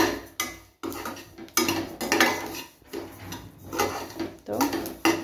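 Sesame seeds roasting in a pan over a medium-to-high gas flame for til ladoo, with close, busy scraping and clinking of a spoon against the metal pan in short irregular bursts.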